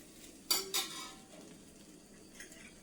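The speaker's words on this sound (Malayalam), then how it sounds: "നമുക്കൊന്ന് മറിച്ചിട്ട് കൊടുക്കാം" Ada dosa turned over on a hot pan, two quick spatula scrapes in close succession followed by a faint, lingering sizzle.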